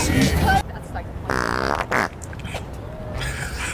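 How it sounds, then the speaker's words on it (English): A comic fart noise, a short buzzy blast, sounds in the middle of loud, close chatter and reactions among several people. "Fart's so funny."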